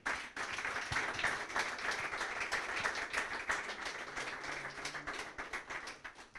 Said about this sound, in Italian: E allora un grosso applauso al miglior allenatore di questo girone D della serie C2